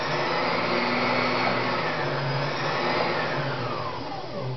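Pfaff 294 sewing machine motor spinning freely on its own, a steady loud whirring hum that holds constant pitch throughout, with no talking.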